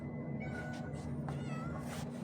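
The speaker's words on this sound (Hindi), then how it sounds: "ये बिल्ली है, इसको भूख लगी है" A hungry cat meows repeatedly outdoors by a house, several drawn-out cries close to the listener over a steady background hum.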